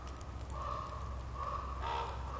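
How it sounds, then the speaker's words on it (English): Ravens calling with repeated harsh caws against a steady outdoor background hum, moderately close, with a few separate calls spread across the moment and no talking. "That's ravens."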